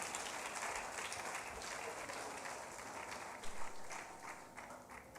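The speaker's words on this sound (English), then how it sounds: "A round of applause once again for Uncle Jude Chukwuka." Audience applause at a leadership event in Nigeria, a sustained crowd clapping that rattles on like rain for several seconds with a brief louder burst near the end, heard from a distance.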